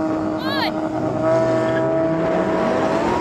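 A Lamborghini STO launches in a drag race without launch control, its engine revving loud and close into a sustained, rising roar, with a brief high squeal at the start.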